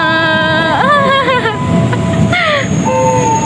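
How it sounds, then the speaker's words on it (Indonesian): A train rolls into a Jakarta station with a deep rumble and sharp, high-pitched squeals from its wheels and brakes as it slows. "Ini kereta kita udah datang nih"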